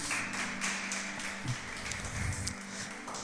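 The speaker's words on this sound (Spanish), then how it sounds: "Tú le daría un gran aplauso al Señor." Scattered clapping from a church congregation, fairly faint and uneven, with a low hum underneath throughout.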